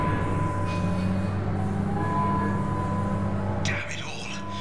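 A tram in the video game Mass Effect 2 carries riders along with a steady, low mechanical hum and rumble, ending in a short whoosh as the sound eases off.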